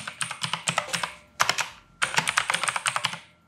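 Computer keyboard typing in two quick bursts of crisp, close key clicks with a short pause between them, alone with no voices.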